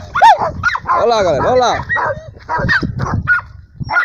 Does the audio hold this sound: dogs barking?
yes